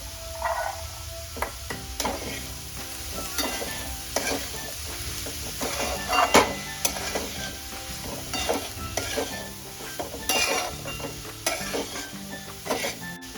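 Black peas tipped into a pan of village-style jackfruit curry, steady sizzling and frying with repeated scraping stirs and clinks of a spoon against the pan, close and continuous with no talk.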